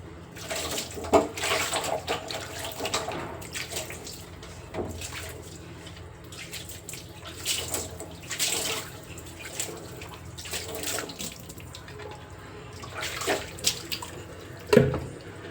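Water is poured across a tiled kitchen counter and runs down into the sink. Close, splashy gushes come in uneven bursts with quieter trickling and dripping between them, and no one talks.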